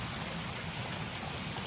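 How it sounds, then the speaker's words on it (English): Water pours over a weir into cool pools, a steady broadband rush with no breaks, even and moderately loud throughout. "the water is running over the weir"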